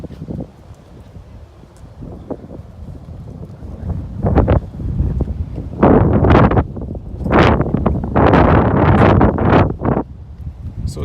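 Strong outdoor wind gusts buffet the microphone at a car detailing session, rising into loud, rough bursts of rumbling wind noise in the second half.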